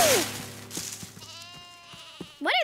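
A brief cartoon sheep bleat ends the passage, loud and wavering, after quieter knocks and soft tones from a lively farm chase scene.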